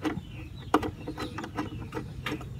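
A ratchet wrench removes a motorcycle bolt, giving a quick series of close, quiet clicking ratchet strokes in an uneven rhythm.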